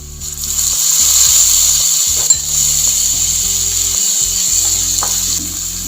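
Onions fry in a pan while being browned for farfalle pasta, giving a steady, close hiss of sizzling that carries through the whole stretch over a low, stepped tonal background.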